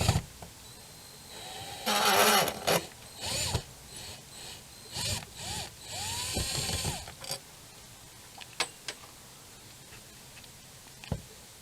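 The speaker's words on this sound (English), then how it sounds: "So let's go grab a screwdriver and get working on it." Screws being backed out of a dishwasher panel with a screwdriver, giving bursts of grinding, ratcheting clicks and scraping close by, followed by a few sharp isolated knocks, with no talking.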